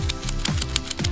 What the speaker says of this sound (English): Then you're going to ratchet this